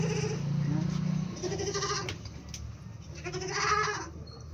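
A goat on a cattle farm gives a few wavering bleats, near and moderately loud, over steady background noise.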